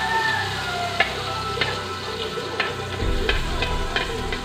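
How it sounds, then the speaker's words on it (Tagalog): Garlic sautés in hot oil in a pan for a tuna coconut-milk dish, a steady sizzle with a few sharp clicks of a utensil against the pan and a louder burst of frying near the end. "Unahing igisa ang bawang."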